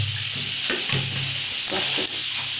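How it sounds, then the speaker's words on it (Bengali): Dal spices with turmeric and chilli powder being sautéed in a pan, a steady sizzle with a few scraping stirs. "এখন একটু কষাবে।"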